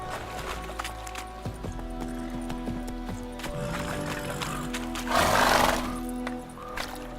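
Geralt's horse Roach gallops in The Witcher 3, hoofbeats thudding steadily under ambient game music, with a louder rushing swell near the end.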